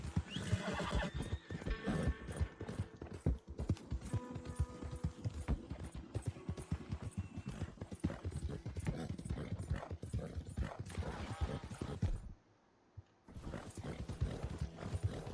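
Horse galloping at speed in Red Dead Redemption 2, rapid hoof clip-clops with neighs and whinnies layered over game ambience, continuous apart from a brief near-silent gap toward the end.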